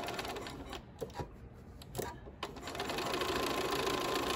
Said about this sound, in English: I'm just gonna start sewing across here to get this other side done